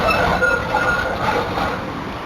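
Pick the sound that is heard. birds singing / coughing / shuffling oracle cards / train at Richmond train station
train at Richmond train station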